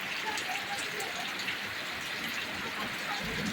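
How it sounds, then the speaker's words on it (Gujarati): Heavy rain falls over farmland, a constant, fairly soft hiss of downpour with scattered drips that continues evenly throughout. "જોઈ શકો છો વરસાદ એવો છે મિત્રો"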